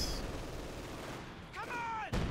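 Heavy gunfire and rumbling bombardment from the World War II strategy game Company of Heroes 2, a dense continuous barrage with a brief descending whine near the end.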